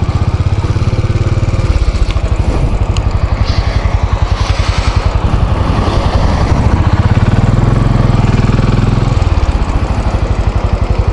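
A Royal Enfield Classic 500 motorcycle pulls away under a steady, loud, low engine thump, and its note shifts and swells briefly near the end.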